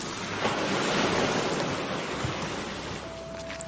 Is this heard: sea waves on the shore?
yes